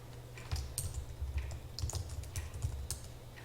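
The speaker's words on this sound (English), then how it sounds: "Let's try to type in this text box." Typing on a computer keyboard, entering text into a PowerPoint text box; steady, close, irregular key clicks and taps, fairly quiet and alone, with no talking.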